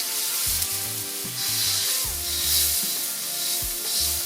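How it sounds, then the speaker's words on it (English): Honey garlic sauce being stirred into sizzling prawns in a pan, a steady frying hiss with a series of low scraping stirs, close and alone. "Just keep stirring while we're adding it to the pot or the pan."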